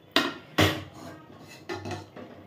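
Spiced tempering (phoron) poured into a pot of bhog khichuri, giving two sharp loud clanks of a metal utensil against the pot followed by softer scraping knocks and a brief sizzle, with no talking.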